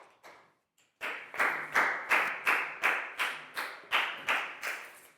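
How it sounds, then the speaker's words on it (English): A children's English class claps together in a steady rhythmic series of about ten loud, crisp claps, preceded by a couple of softer scattered ones, close by with no talking. "a big round of applause for Net, please, guys."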